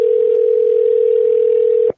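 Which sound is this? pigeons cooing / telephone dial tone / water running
telephone dial tone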